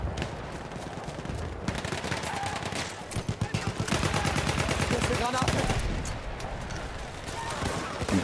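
Rapid gunfire in a Battlefield 1 multiplayer Operations battle: sustained bursts of machine-gun and rifle shots, dense and loud with explosions layered in, running continuously throughout.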